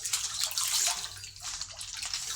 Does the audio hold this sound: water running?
yes